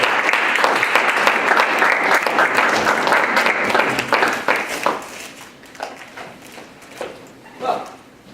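Audience applause welcoming speaker Pier LaFarge at a Friday speaker series event: steady, dense clapping for about five seconds, then thinning into scattered claps and fading out.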